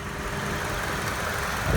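A Honda CR-V engine runs steadily after a water pump swap, a loud, even close hum and whir with no break, swelling slightly at the very end.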